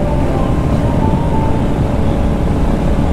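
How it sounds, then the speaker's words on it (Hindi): Motorcycle ridden at 100 km/h on a national highway in Sikkim, heard as constant loud engine drone and rushing wind noise, unbroken for several seconds with no talk. "और अभी बाइक का स्पीड है 100, 100 की स्पीड पे भाग रहा है"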